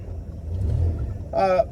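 A 1933 Auburn car sets off on a ride with a low, close engine rumble that swells briefly. A short, higher tonal burst sounds near the end.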